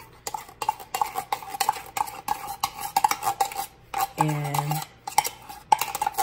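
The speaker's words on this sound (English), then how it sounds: "what I'm gonna do is just mash this up as much as I can. So yeah, mash this into your sweetened condensed milk." Softened cream cheese mashed into sweetened condensed milk in a bowl, heard as close, repeated clinking and scraping of a utensil against the bowl in an uneven rhythm, with a brief low hum partway through and a single spoken word.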